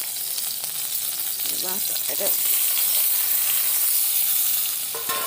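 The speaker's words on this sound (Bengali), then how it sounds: "তেলে লঙ্কা দিয়ে দিয়েছি" Green chillies dropped into hot oil for a home fish curry sizzle loudly and continuously at close range, a dense frying hiss with faint stirring and a brief voice in the background.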